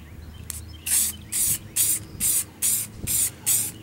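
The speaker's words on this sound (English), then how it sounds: "we will do probably two layers of clear coat" Spray gun laying clear coat onto an engine bay cover: seven short, loud hissing bursts in a steady rhythm, close by, with no talk.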